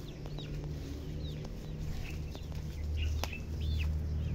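Free-range chickens head into their coop in the afternoon, with repeated clucks and occasional calls over a steady outdoor background, some birds near and others farther off.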